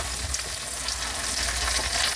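Garlic and sausage stir-frying in a pan give a steady, close hiss of sizzling with small crackles and light stirring scrapes, without a pause for the whole clip.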